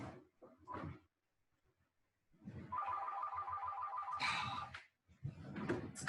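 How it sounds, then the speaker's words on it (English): A telephone rings with a rapid trilling electronic bell lasting about two seconds, preceded by some thumps and handling noise and followed by more rustling clatter close by. "Phone is ringing."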